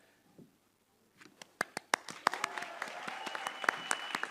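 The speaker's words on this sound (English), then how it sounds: "Applause, applause" Applause from an audience at an awards night starts after a near-silent moment, beginning with a few scattered claps and building into steady, fairly loud clapping.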